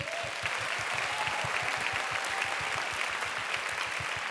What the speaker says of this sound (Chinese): 再给我们彼此一个掌声好不好